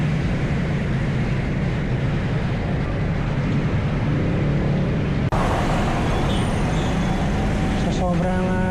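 Heavy traffic rumbles along Santa Rosa–Tagaytay Road in Laguna, heard from a bicycle. A low, continuous engine drone carries on throughout, and the sound shifts noticeably partway through.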